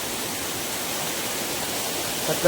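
Waterfall near Dapoli at Bandhtivare, a dense, steady broadband rush of falling water, close and unchanging, with a brief louder bump at the very end.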